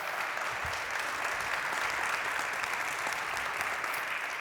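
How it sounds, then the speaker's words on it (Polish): Steady applause from a crowd, dense clapping sustained evenly throughout without pause. "Wielkie gratulacje i brawa."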